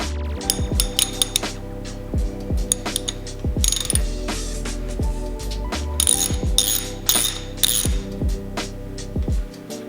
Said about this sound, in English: first thing we're gonna do is loosen this bolt up, which is a 12 millimeter.